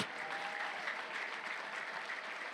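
A church congregation claps in praise, producing dense, sustained applause that fills the room evenly from start to finish.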